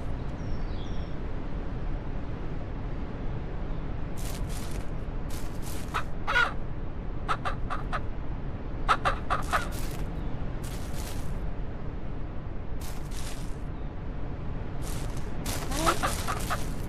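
Chickens in a ranch farming simulation game, repeated short clucks and squawks in scattered bursts over a steady noisy background, no talk.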